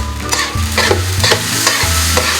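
Keema mince being stirred in a frying pan on a tawa, loud close sizzling with scraping spoon strokes repeating every half second or so over a low steady hum.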